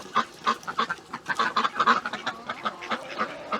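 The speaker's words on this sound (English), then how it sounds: "And those are the noisy ones over here, all these ducks." A group of farmyard ducks quacking noisily and close by, in a steady stream of overlapping, uneven calls with no talking.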